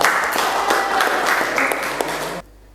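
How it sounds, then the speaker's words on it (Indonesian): Classroom applause from students during a lesson, dense steady clapping that holds strong for over two seconds and then stops abruptly, leaving near silence. "Tepuk tangan juga."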